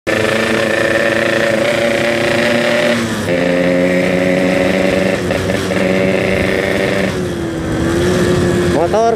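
A racing motorcycle engine runs loud and close on a wet road after rain, holding a steady droning idle with small pitch shifts and a brief rev near the end.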